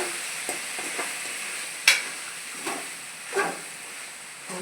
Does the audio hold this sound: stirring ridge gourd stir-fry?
yes